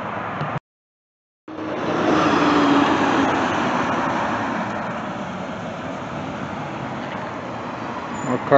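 Cars pull into a church parking lot on a Sunday morning, giving a steady wash of engine and tire noise that holds for several seconds after a brief dropout.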